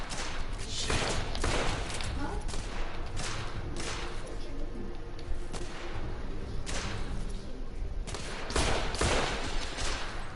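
Bursts of gunfire ring out in a fast-paced shooter game amid a dense, continuous battle din, with loud volleys around one, seven and nine seconds.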